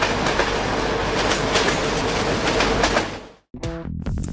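A train in the railway simulation game Trainz rumbles loudly with rhythmic clickety-clack for several seconds, then cuts off abruptly before a brief burst of tonal game sound.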